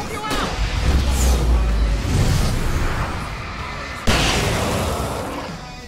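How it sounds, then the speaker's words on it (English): Several booming firework bursts go off in quick succession in Alan Wake Remastered, each followed by crackling noise, loud and busy with voices mixed in. "I can set off more of the fireworks from here and help you out!"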